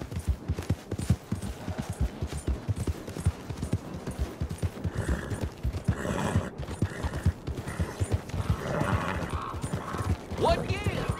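Horse hooves clip-clop steadily in Red Dead Redemption 2, a continuous rhythmic trot close up, with someone speaking over the hoofbeats at moderate loudness.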